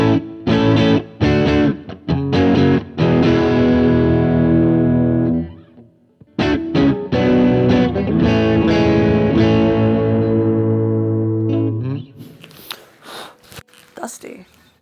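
Electric guitar through a Fender Hammertone overdrive pedal with the reverb turned down, playing loud, sustained distorted chords in bursts with brief gaps, then fading into quieter noodling near the end.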